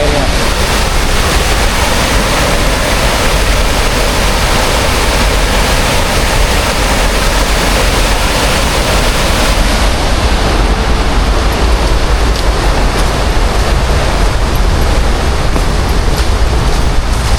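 Loud, steady gushing of floodwater running off in a channel from a cemetery area, a dense continuous rush filling the whole clip with no break.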